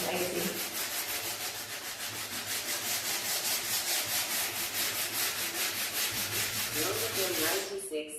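Old wooden window frame being sanded by hand with 80 grit sandpaper, a close, continuous rhythmic scratching of quick back-and-forth strokes that stops abruptly at the end.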